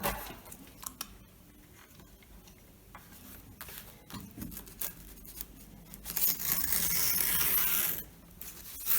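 A paper envelope holding banknotes is torn open close by in short scratchy rips and crinkles, ending in a longer, louder tearing stretch near the end.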